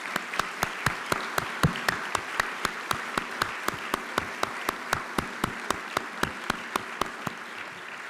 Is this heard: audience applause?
yes